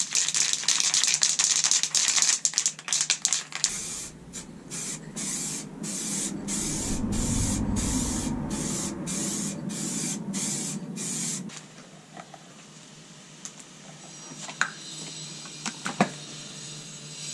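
Aerosol can of Frost Extreme Chassis Black paint sprayed onto Defender 300Tdi axles, a loud hissing burst followed by a rapid series of short evenly spaced spray pulses, then quieter background.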